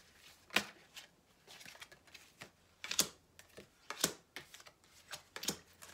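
Tarot cards are shuffled for a new draw in a quiet room, with soft riffles and sharp slaps recurring in uneven bursts, close and fairly faint, with no talking.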